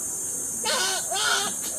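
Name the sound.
child imitating goat bleat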